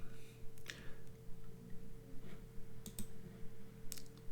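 Computer mouse buttons click in a quiet room over a steady electrical hum, with a few sharp single clicks spread across the stretch and no talking.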